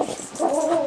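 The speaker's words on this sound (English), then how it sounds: "that's my dog getting very excited" An excited dog lets out a few short yips, then a rising, drawn-out whimpering whine, close by and fairly loud with no talking.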